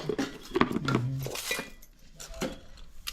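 A spoon clinks against a bowl while salt and Malvani masala are mixed into a Konkan-style raita of Raival mango, giving a few close, bright metallic taps and scrapes that fade after the first seconds.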